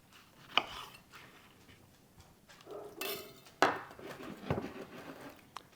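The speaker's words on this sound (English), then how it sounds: "Slice up 1 lemon" A knife slicing through a lemon on a cutting board, giving a few sharp cuts and knocks against the board, fairly quiet and close, with no talking.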